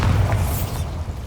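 A Bombarda blasting spell detonates in Hogwarts Legacy, a short heavy boom with a deep low thump and crackling burst that decays within about a second.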